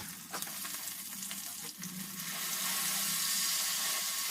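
Green chilies frying in oil for a fish curry give a soft, steady sizzle close by that swells and thickens after the first couple of seconds, with no talking.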